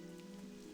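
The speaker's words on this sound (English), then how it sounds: "Still raining." Rain falls in World of Warcraft, a faint, steady patter washing over a constant low ambient hum, with no voices.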